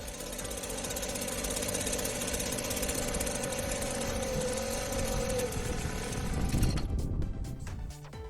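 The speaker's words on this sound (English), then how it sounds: "Start the engine and run it until it stops." An MD300 small engine runs with a steady buzzing drone and mechanical clatter for about seven seconds, then sputters and dies, leaving a few faint clicks and ticks as it falls silent.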